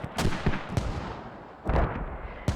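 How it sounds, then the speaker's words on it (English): Mortar and gunfire in the military shooter game Squad, with several sharp distant booms and cracks spaced irregularly over a noisy battlefield background, with one heavier burst in the middle. "It's a mortar on south side."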